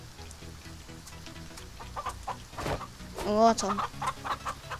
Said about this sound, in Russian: Тихо, курицы, обратно заходите, а то закрою.